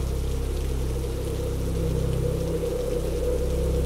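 A cartoon storm effect with heavy rain: a loud, continuous rushing wash over a deep, steady rumble that swells slightly midway and runs unbroken with no voices.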